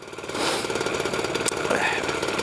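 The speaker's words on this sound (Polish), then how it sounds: "Podregulował paseczek, podregulował obrociki. Ładnie Simko pracuje." A Simson moped engine runs after its belt and idle speed have been adjusted, giving a steady, close, rapid buzzing drone with an even rhythm that holds throughout the short stretch.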